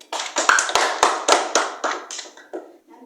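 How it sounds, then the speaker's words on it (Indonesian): Applause from a small group in a group counseling session, a burst of irregular overlapping claps that stays dense for about two and a half seconds before thinning out, close and moderately loud, with no talk. "boleh kita berikan tepuk tangan sekali lagi untuk Kaila."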